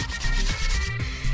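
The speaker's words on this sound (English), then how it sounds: "grit sandpaper on the areas of the rim that have damage" Steady, continuous rubbing of sandpaper against a wheel rim, a close gritty scrape that rises and falls slightly with each stroke.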